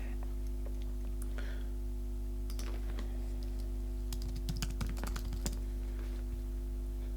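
Typing on a computer keyboard nearby, scattered soft key clicks in irregular bursts over a low steady hum, with quiet speech in places.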